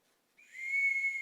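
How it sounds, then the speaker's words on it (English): A signal whistle is blown in a household as a summons, giving one sustained shrill tone that swells and holds for about a second, alone without talk. "Everyone in this house answers to a whistle."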